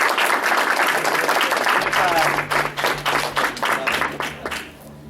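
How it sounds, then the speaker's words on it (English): An audience applauds after a business talk on executive presence for entrepreneurs, dense steady clapping that thins out and fades near the end, with some voices mixed in. "Let's give her one more round of applause."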